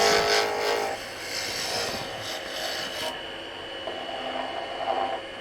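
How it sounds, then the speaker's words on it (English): A spindle roughing gouge shaving a spinning wood blank on a lathe while shaping a Scottish spurtle, a steady close rasping hiss that runs throughout with slight changes in pressure. "This is a roughing gouge, folks."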